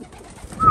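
A racing pigeon gives a brief, close, soft coo while the flock eats peanuts, a short throaty call rising at the end of a quiet moment.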